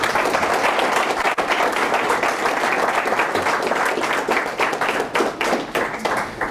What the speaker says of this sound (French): je vous demanderai, s'il vous plaît, mesdames et messieurs distingués invités, de les applaudir